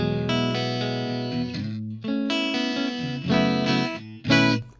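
Electric guitar through a clean Fender-style amp model on a Donner Arena 2000 rings out sustained chords and arpeggios, close and steady with no voices.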